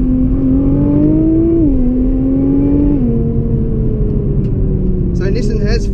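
A 2017 Nissan GT-R engine revs hard under full throttle above 5,000 RPM, its vacuum-cleaner-like droning whine climbing in pitch, dropping at gear changes, then climbing again, loud and close throughout.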